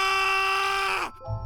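A person screams in panic, holding one loud, sustained cry that bends downward and breaks off, followed by a low rumble.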